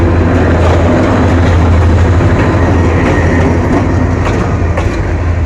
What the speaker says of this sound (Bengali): এই মুহূর্তে জয়দেবপুর স্টেশন থেকে ছেড়ে যাচ্ছে ট্রেনটি আস্তে আস্তে করে।